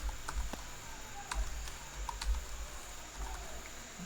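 Quiet typing on a QWERTY computer keyboard, with irregular clusters of soft key clicks and a few sharper taps, close by with no voices.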